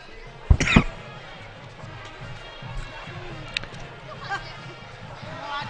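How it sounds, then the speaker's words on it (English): Coughing in a crowd at a high school football broadcast, Stigler at Roland: one sharp, loud cough near the start, then fainter thumps and a murmuring background. "We got to get rid of these coughs."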